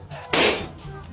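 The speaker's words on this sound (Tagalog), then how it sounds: "Pinutok mo yung lobo ko." A single sharp, loud pop of a toy balloon bursting nearby, a short bright burst that quickly fades, with people talking around it.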